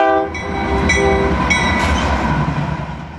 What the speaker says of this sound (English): This is a coal train moving through Glenwood Springs, Colorado.